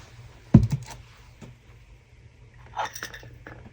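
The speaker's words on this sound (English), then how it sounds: "Let's put some lids on things." Lids pressed onto containers of resin for crafted flower bloom coasters, a sharp plastic clack followed by smaller rattles and a second cluster of light knocks and clinks nearby.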